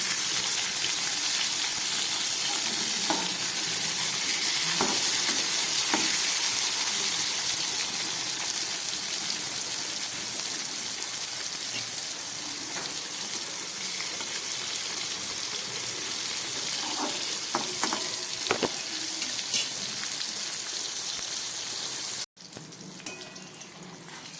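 Steady loud sizzling of onion, tomato and capsicum frying in a pan, a constant hiss with occasional clicks and pops, cutting off abruptly near the end.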